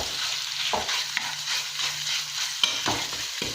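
Ground pork is stir-fried in a pan with chillies for a spicy kaprao dish, producing a constant sizzle punctuated by repeated spatula scrapes and tosses.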